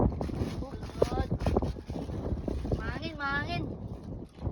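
Outdoor gusts buffet a microphone during a Filipino unboxing, producing a rough, rumbling roar beneath people talking close by, with swells of wind rising and falling throughout.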